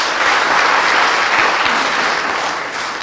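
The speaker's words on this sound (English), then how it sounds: "Let us clap for him." An audience at a school debate in Uganda breaks into steady applause, a dense wash of clapping that holds for a few seconds before tapering slightly at the end.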